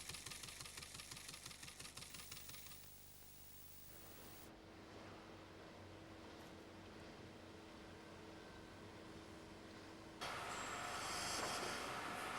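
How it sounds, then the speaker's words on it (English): A classic industrial engine pumping water that also cools its cylinder. A rapid rhythmic chugging gives way to a steady mechanical rumble with a faint whine, then grows louder and harsher near the end. "The water which this engine is pumping is also used to cool the cylinder."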